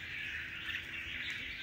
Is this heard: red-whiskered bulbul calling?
yes